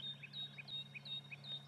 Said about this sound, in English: bird chorus.